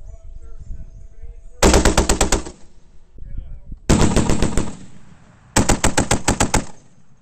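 .50 caliber machine gun firing three long bursts of rapid, evenly spaced shots at a qualification range, loud and close, with short quiet gaps and faint outdoor background between bursts.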